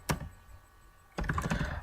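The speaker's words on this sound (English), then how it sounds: "Sorry, I'm typing." Typing on a computer keyboard, close by: a couple of quick clicks, a brief quiet pause, then a fast run of clattering keystrokes.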